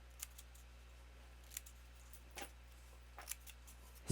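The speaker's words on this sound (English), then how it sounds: "I've gotten out my Martha Stewart fringe scissors and I'm just adding a little" Martha Stewart fringe scissors snip paper fringe in a quiet room: five or six sharp, crisp cuts, close and fairly faint, spaced irregularly, with no talking.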